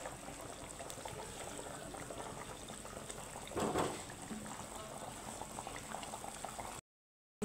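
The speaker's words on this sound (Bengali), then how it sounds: "তো এখন আমি ঝোলটাকে ফুটিয়ে নিয়েছি" Fish curry gravy with potatoes bubbles steadily in a pan, a continuous close simmering boil that swells briefly partway through, with no talking.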